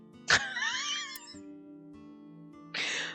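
A cat's meow at a lucky cat statue in the video game AI: The Somnium Files, a short, clear, drawn-out mew heard up close over a steady low game background tone, followed by a brief burst of noise.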